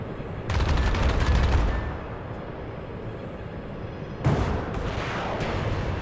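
Gunfire from the helicopter combat game Comanche rattles out in a loud, rapid burst, then falls to a lower rumble before a second heavy volley breaks in and carries on to the end.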